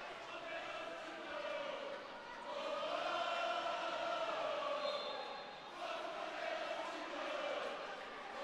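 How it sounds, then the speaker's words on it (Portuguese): Corinthians supporters cheer at an under-8 youth futsal final against Palmeiras, a steady crowd roar that swells in waves through an indoor arena. "Faz a festa a torcida do Corinthians"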